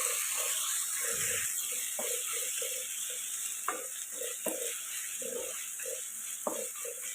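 Tomatoes with coriander and mint frying in a pan for a paneer pulao, a steady hiss of sizzling oil under repeated scraping strokes of a stirring spoon, close and fairly even, no voices.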